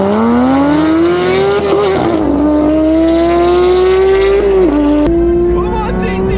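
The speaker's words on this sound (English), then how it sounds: "The Porsche now will go against a 700 horsepower C63." A Porsche GT3 races a 700 horsepower Mercedes C63, its engine screaming loud and close as the revs climb steadily, then dip briefly with each gear shift before rising again.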